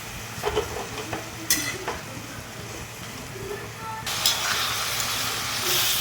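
Methi bhaji cooks in a pan, stirred with a spatula over a steady sizzle and frying hiss, with scraping strokes and louder bursts of sizzling toward the end.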